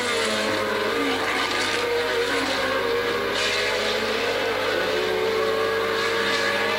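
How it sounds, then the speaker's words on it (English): A 1981 Renault RE30 Formula 1 car races at the German Grand Prix at Hockenheim, its engine a loud sustained high-pitched howl over crowd and track noise throughout. "That's the Renault 30, the 1981 car of Alain Prost."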